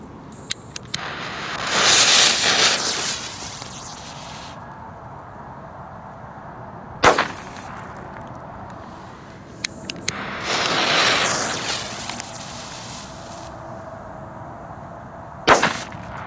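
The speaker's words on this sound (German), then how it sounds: "Komet China-Böller B." Several sharp, loud bangs with crackling bursts between them, separated by quieter gaps; Komet China-Böller B firecrackers going off outdoors, no talking.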